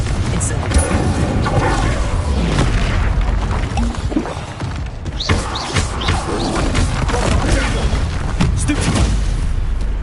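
Explosive Confringo spell blasts in the Hogwarts Legacy video game, heavy booms and crashes over dense, constant combat noise, with a voice talking over the battle.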